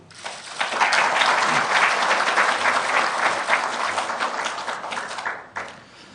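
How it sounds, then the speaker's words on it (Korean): Sustained audience applause at a Kwanhun Club debate forum in Korea, welcoming a former South Gyeongsang governor's keynote: dense, loud clapping from a full room, steady throughout and fading near the end, with no talk over it. "김 지사의 기조연설 큰 박수로 청해 주시죠"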